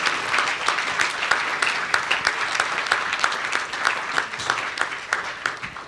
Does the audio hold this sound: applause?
yes